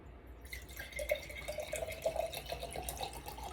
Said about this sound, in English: Let's dump a little water in it.